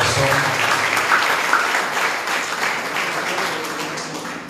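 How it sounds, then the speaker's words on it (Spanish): A church congregation gives a loud, sustained round of applause to the Lord, a dense, even clapping that tapers slightly toward the end, with a faint voice underneath early on. "Regálele una fuerte ofrenda de palmas al Señor con todo su corazón"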